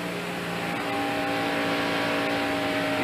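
Mark Martin's race car at the 1992 Hooters 500 accelerates hard off a corner, heard onboard as a loud, steady, rising engine drone with tonal whine, continuous and close.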